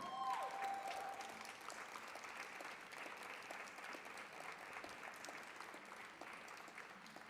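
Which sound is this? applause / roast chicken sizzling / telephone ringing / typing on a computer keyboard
applause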